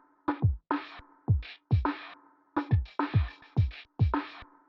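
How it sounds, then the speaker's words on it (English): Drums and turntable-style scratches in a beat, a steady run of punchy hits with pitched sweeping scratch bursts repeating in a tight rhythm, loud and close with no talking. "For this part I also added all these drums and scratches."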